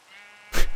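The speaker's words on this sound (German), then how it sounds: "Ups, ich hab das Schaf geschlagen." A sheep in the video game Minecraft bleating once, a short, fairly loud bleat after a faint tonal backdrop, heard alone without voices.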